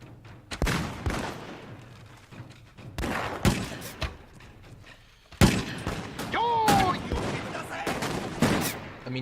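Gunners fire volleys of muskets in Mount & Blade: Warband, with loud, irregular cracks and thuds scattered across the battle, some overlapping. Sporadic clusters of shots ring out amid battlefield din, and a brief whistle-like tone cuts through.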